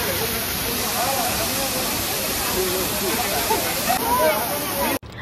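A waterfall near Gokarna roars as a loud, steady rush of falling water that fills the whole scene, with faint voices barely showing through before it cuts off abruptly.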